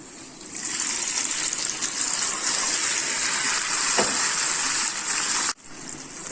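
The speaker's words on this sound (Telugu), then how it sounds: "ఇప్పుడు పోపు వేసేసుకుందాం." Sizzling tempering of mustard, cumin, fenugreek, lentils, garlic and curry leaves is poured into bottle gourd dal. It gives a loud, steady, close hiss for about five seconds, then cuts off abruptly.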